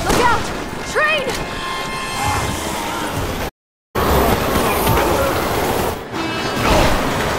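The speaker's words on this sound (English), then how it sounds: "Look out! Train!" A train crashes in the video game Resident Evil 6, a loud, sustained rumbling, smashing roar with a brief dropout partway through. Shouted voices come through near the start.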